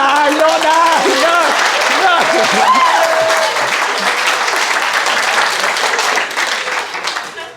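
A live comedy audience breaks into loud, dense clapping that stays strong, then thins and fades toward the end, with crowd voices mixed in.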